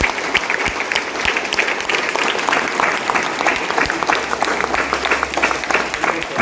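A church congregation applauds at a feast Mass with the chariot festival of the Infant Jesus shrine in Guindy, sustained dense clapping from many hands filling the room throughout, with faint voices mixed in.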